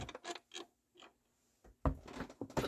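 A hand-cranked embossing machine feeds a stamped card plate through with a few scattered creaks and clicks before a denser grinding, rolling mechanical burst near the end, close and fairly quiet.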